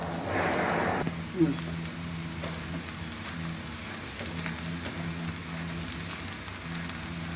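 Panch phoron spices frying lightly in a pan with already-fried onions, a Bangladeshi vegetable dish; a close, steady crackling sizzle runs throughout, loudest in the first second, with a voice talking over it.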